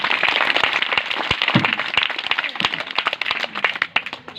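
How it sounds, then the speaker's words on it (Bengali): A church congregation at a revival meeting claps hands loudly together, a dense, continuous patter of many overlapping claps that fades slightly toward the end, with a few voices faintly underneath. "আসুন আমরা জোরে প্রভুর দেশে হাততালি দিই"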